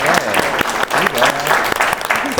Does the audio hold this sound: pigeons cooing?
no